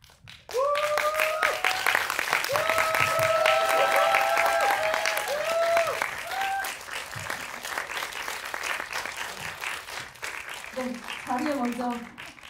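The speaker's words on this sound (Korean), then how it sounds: "지금 들어오시면은 큰 박수 부탁드릴게요." Audience at a film screening Q&A bursting into loud, sustained applause with cheers as the actors walk in, tapering off as a voice begins talking over the fading claps.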